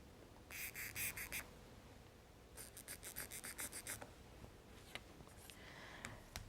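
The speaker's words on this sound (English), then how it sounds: "I love the little clicky sound they make." Faint rapid clicking in short bursts from a small chalk marking wheel ticking as it rolls, with quiet background hiss between bursts.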